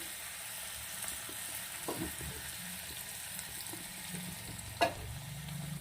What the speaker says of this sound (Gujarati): હવે આપણે અંદર ડુંગળી અને લાલ મરચું નાખું છું